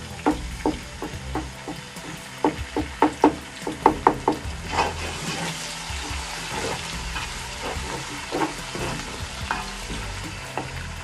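Half a tomato goes into frying ginger and garlic for Lahori mutton karahi, with a constant sizzle punctuated by sharp clacks and scrapes of a spoon stirring against the wok, close up and without talking.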